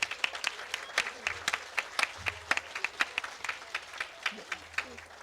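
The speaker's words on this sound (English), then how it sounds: "yes, applaud, please, applaud." Hall of Fame ceremony crowd applauding in scattered, uneven claps, moderately distant and thin rather than a full ovation, with faint murmuring underneath.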